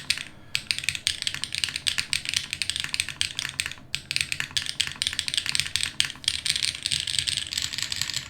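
Fast, continuous typing on a custom computer keyboard built with DCS UFO keycaps, crisp close clacks in a dense rapid stream with one brief pause.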